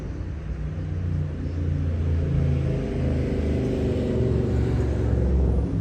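A 1991 Pierce Lance pumper fire truck with a Detroit 6V92 diesel engine idles steadily, a deep continuous rumble with an even low throb throughout, close and unbroken.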